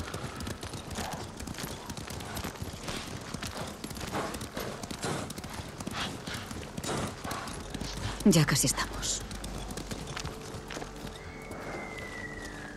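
Rhythmic hoofbeats of horses galloping over ground in the video game Ghost of Tsushima, steady under someone talking, with a brief rise in action near the middle before the pace eases.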